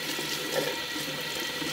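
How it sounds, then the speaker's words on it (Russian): Hot tap water rinses a cold-climate plant to wash off pests and dirt, giving a steady, close rushing splash that continues without a break. "Делает свое дело, горячая вода."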